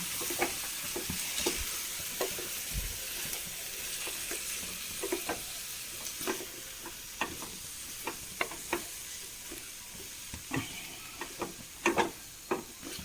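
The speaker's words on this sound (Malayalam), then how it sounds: "നന്നായി ഇളക്കി യോജിപ്പിക്കാം" A spoon scrapes and stirs food in a hot frying pan over a steady sizzle, with irregular sharp clicks and scraping strokes spread through the whole stretch, close and alone with no voices.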